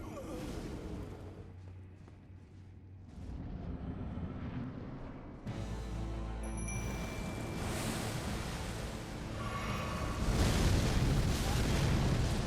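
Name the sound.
explosion in video game Elden Ring, Messmer fight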